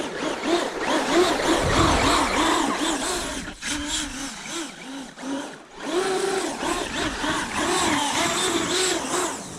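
A whirring, grinding gear drone from the rear axle gear reduction of a Traxxas UDR 6S RC truck breaking in its ring and pinion, rising and falling in steady cycles, briefly dropping away midway before resuming, close and fairly loud.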